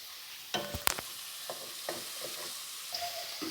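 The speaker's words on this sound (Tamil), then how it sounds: "மீடியம் சைஸ் ரெண்டு வெங்காயம் பொடியாக கட் பண்ணி போட்டிருக்கேன் அதையும் நல்லா கலரி விடலாம்" Two medium onions, finely chopped, sauté in a pan for a brinjal and potato stir-fry, a quiet sizzle broken by bursts of spatula scraping and clinking as they are stirred.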